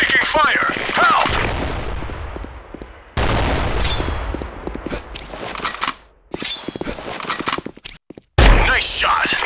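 Rapid automatic gunfire and single shots from the online shooter Sudden Attack, loud and close, with brief pauses between bursts while players shout over the shooting.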